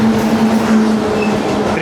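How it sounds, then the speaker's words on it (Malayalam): The Ernakulam–Tatanagar Express rumbles past with a loud, steady rolling roar and a sustained hum, heard close and continuous while someone speaks. "ഇത് എറണാകുളം ടാറ്റാനഗർ എക്സ്പ്രസ് ആണ്."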